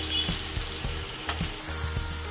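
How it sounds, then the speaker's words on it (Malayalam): Fish frying in a pan for Kerala-style fish biryani, a steady close sizzle of hot oil with small crackles and pops running throughout, no voices. "ഫിഷെല്ലാം നന്നായിട്ട് ഫ്രൈ ആയി വന്നിട്ടുണ്ട്."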